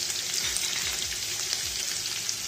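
Minced meat (keema) for dal keema pulao sizzles hard in a hot pan after salt goes in, a dense continuous close-up frying hiss with faint low stirring scrapes underneath.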